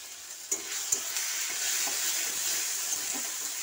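Tomatoes seasoned with salt sizzle steadily in a pan for a fish curry while being stirred, with a few scraping knocks of the spoon near the start over a continuous close hiss.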